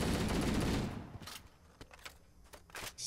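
Gunshots in the shooter Halo: Combat Evolved, a loud sustained burst of fire that cuts off, followed by scattered softer single shots and clicks.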